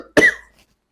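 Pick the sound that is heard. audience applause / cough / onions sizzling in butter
cough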